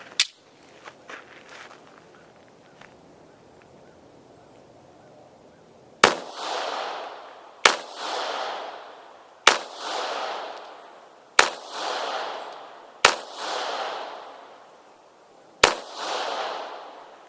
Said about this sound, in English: The gun is shooting to the left.